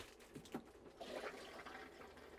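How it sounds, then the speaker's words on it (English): An RV toilet's hand flush lever on a 2020 TAB 320 CS-S trailer is pulled halfway, sending a short rush of water into the bowl; the filling swells after a couple of faint knocks and stays close and steady with no talking. "if you pull that halfway, that's just going to put water in the bowl"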